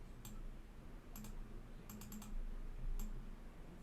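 Faint, sparse clicks of a computer keyboard come in small clusters against a quiet hum of room tone, with no voices.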